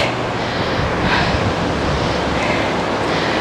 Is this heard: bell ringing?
no